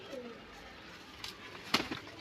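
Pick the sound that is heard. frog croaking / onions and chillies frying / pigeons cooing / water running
pigeons cooing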